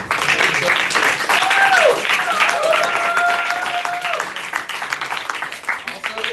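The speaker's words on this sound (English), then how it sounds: "Round of applause for our guest speaker." Attendees at a Halloween meeting applaud a guest speaker, sustained clapping with voices and chatter woven through it.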